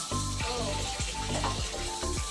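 Chicken sizzles and crackles steadily in hot white oil in a home kitchen pan, close and continuous, with rhythmic scraping strokes of stirring at regular intervals.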